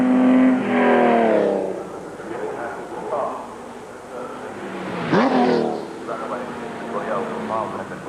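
An Aston Martin DB3S sports racing car runs its engine at a motor festival, the note rising and falling through a couple of revving passes, with someone talking over much of it.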